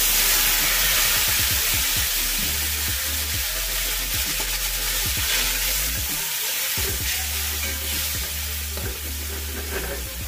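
Spice mix of turmeric and other ground spices frying in a pan for a vegetarian pea dhoka as a little water goes in, loud sizzling with repeated stirring scrapes and a burst of steam.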